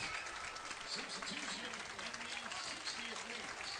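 Steady applause from a distant soccer crowd after a goal, a continuous wash of clapping with a voice talking over it.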